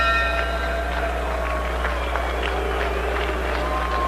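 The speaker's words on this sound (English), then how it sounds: "Crowd showing some disapproval" Boxing arena crowd at a Floyd Mayweather Jr. versus Larry O'Shields fight voicing disapproval: a steady, diffuse murmur of many voices that fills the hall from start to finish, with scattered shouts and no single standout burst.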